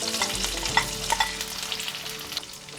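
Grated jaggery being stirred and sautéed in a pan for coconut rice (narali bhat), giving a soft continuous sizzle with a few light scraping knocks of the spoon, close and fairly quiet.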